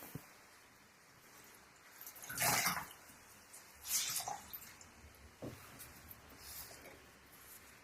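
Pre-wetted silk going into a pot of nettle dye makes a couple of brief watery splashes and sloshes, with quiet drips between them.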